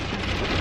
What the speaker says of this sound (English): coming to some heavy rain